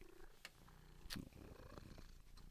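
A cat's soft, close purring rumble continues steadily, broken by a couple of brief rustling bursts.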